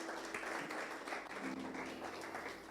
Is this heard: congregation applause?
yes